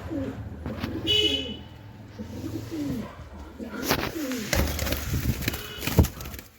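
Pigeons brought in for checking coo softly nearby while several sharp knocks and rustling handling noises break in, with faint background sounds throughout.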